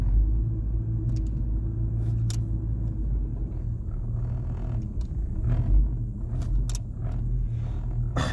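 A Ford Mustang GT idles with a steady, deep low rumble while its automatic transmission is shifted through the gears, a continuous close engine drone with faint clicks on top.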